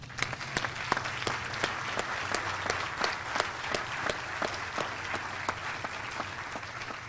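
An audience applauds physicians at a 2002 health center groundbreaking ceremony, a steady crowd clapping with sharp individual claps standing out, continuous and fairly close for several seconds.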